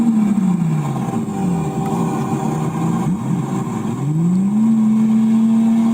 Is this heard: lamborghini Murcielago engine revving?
yes